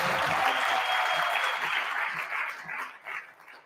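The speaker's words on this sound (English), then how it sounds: "Guys, give yourselves a round of applause" Workshop participants at a business pitching event in Mamelodi give a round of applause; loud clapping at first that thins into scattered claps as it dies away, with a faint dog-like whimper mixed in.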